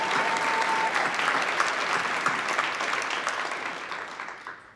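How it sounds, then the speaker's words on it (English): Listeners at a storytelling event break into continuous applause for the next storyteller, a dense patter of clapping that slowly tapers off near the end, with no talking over it. "Alexis, yeah, applause."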